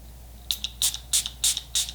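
Five quick hissing spritzes of Catrice setting spray onto a face, evenly paced, each a short burst of mist over quiet background.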